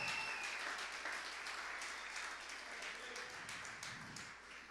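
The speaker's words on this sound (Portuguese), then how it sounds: "Fazer um barulho, dar um aplauso a Jesus." Sustained applause from a church congregation, dense steady clapping that fades slightly toward the end, with a faint voice underneath.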